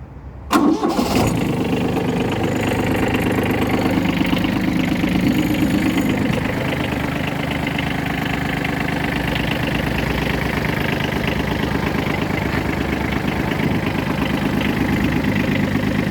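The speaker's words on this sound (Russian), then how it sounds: "Давайте будем его заводить." A Kubota Aste A-14 tractor engine cranks briefly after the glow plugs are warmed, catches and settles into a steady, close, continuous diesel idle running alone to the end.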